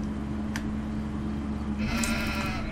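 Sheep bleating in the Farming Simulator 15 game on a livestock farm map, a few short bleats over a steady low hum of farm ambience, with a brighter burst of bleating near the end.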